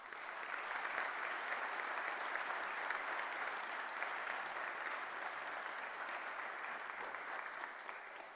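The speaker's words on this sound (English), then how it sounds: "Give them a round of applause." Steady, sustained applause from the audience at a Fife College graduation ceremony, even and continuous for about eight seconds with no speech over it, fading slightly at the end.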